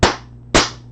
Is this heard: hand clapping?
yes